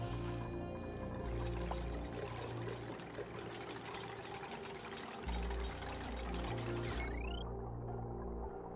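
Radbolt generator running in a video game base, a faint steady mechanical whirr with ratcheting, gear-like clicking and a soft liquid churn, ending with a brief rising electronic whistle.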